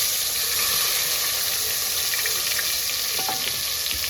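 Tomato, ginger, green onion and asafoetida fry in hot oil, a loud, dense, continuous sizzle close up, with faint stirring scrapes and no talk.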